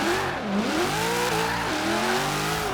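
A 1992 Ford Falcon GT drifting in Forza Horizon 3, its engine droning loud and steady with pitch swooping up and down as revs rise and fall, and tire noise smeared underneath throughout.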